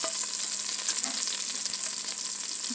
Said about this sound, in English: I'm just gonna fry.